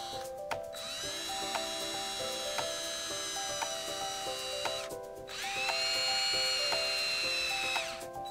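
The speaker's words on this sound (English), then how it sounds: "Now that we have the pilot holes drilled, it's time to mount the clips actually to the board." A power drill bores pilot holes for aluminum mounting channel, whining up in two sustained runs with a rising pitch, near and fairly loud, with brief mechanical clicks between them.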